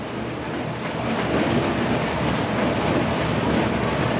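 Heavy rain pours down in a steady, dense roar that stays loud and even throughout, with no pauses and no voices.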